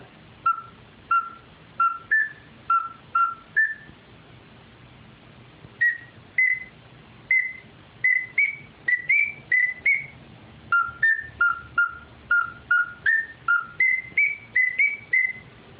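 A custom duck call whistle with two notes sounds in quick chirping bursts of two-note peeps, pausing briefly, then resuming in a longer run of rising and falling notes, close and clear.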